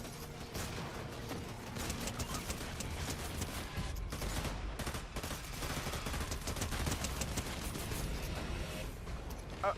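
Continuous video game gunfire, dense crackling bursts of shots layered over each other with a few sharper louder hits, sustained at moderate level for the full ten seconds.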